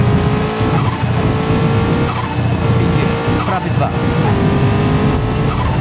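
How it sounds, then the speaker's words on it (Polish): A turbocharged Subaru rally car in the Rally Championship 2000 video game drives at speed, its loud engine note rising and dropping as the throttle is lifted, releasing turbo blow-off hiss, with a voice talking over the game throughout. "taki Subarak ma dźwięk upuszczanego ciśnienia z turbiny, gdy odpuścimy gaz"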